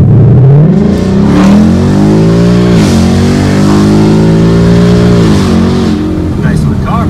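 A 2020 Ford Mustang GT with a tune and Pypes exhaust takes off uphill, its V8 roaring loud and close as the revs climb steadily, dip briefly at a shift, then pull again.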